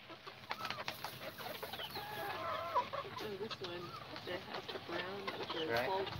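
Chickens and a small rooster in an outdoor coop cluck and warble continuously, with short rising calls coming close together and growing livelier toward the end, while a person talks quietly underneath.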